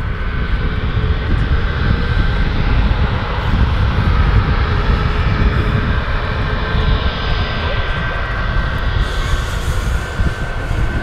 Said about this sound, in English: Sounds quite good, that Ryanair, I'll admit.